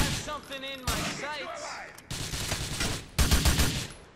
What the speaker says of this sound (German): es wird hier ein bisschen auf uns geballert